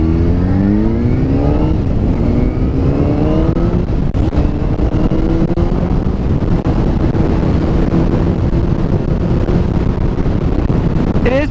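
Loud, steady wind rush buffeting the microphone on a moving vehicle, a constant roar that fills the whole stretch, with an engine tone rising and falling underneath.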